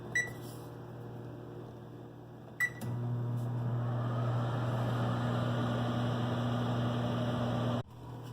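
A microwave oven heating about a cup of water runs with a steady low hum and whir, starting after a beep-like click near the beginning and stopping abruptly near the end, alone with no talk.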